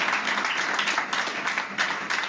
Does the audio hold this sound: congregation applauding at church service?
yes